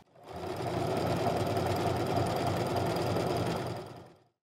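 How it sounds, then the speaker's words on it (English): Close and steady, a sewing machine runs an overlock stitch over a pants seam in one continuous burst that fades in and out. "I'm going to go over it again with the overlock stitch"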